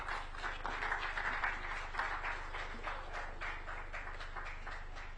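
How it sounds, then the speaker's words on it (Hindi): Audience applause at an awards ceremony, a moderate, steady patter of many hands clapping, somewhat distant and thin, with a low hum underneath. "तालियों में थोड़ी कमी लग रही है।"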